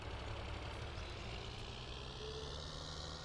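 Tractor engine in Farming Simulator 19 pulling a cultivator, a steady loud diesel drone with constant low rumble and no pauses, heard alone throughout.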